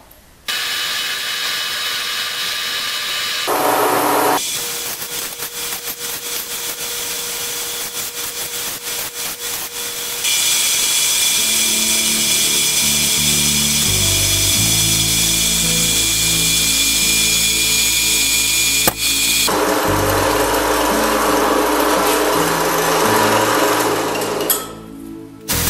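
A power saw cuts through steel for a tractor-mounted engine hoist build, a loud continuous grinding whine up close that shifts pitch and load across several long passes with brief breaks between them.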